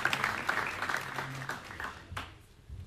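An audience applauds at a Bosnian sports awards ceremony honouring the athletes of the year, a steady wash of clapping that fades gradually toward the end.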